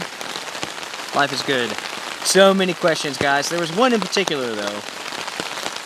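Freezing rain patters steadily on surfaces in a forest during an ice storm, a constant close hiss of drops heard beneath someone talking throughout.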